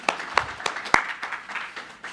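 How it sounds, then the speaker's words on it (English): A small conference audience at the Education Innovation Summit 2017 claps for sponsors, scattered individual claps standing out within a thin, uneven round of applause that fades slightly over a couple of seconds. "Please give them a round of applause."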